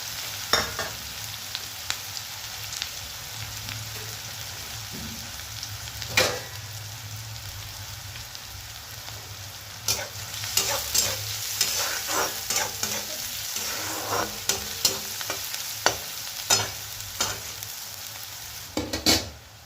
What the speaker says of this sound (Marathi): हा कांदा चांगला ब्राऊन होईपर्यंत आपण याला तेलामध्ये फ्राय करून घेणार आहोत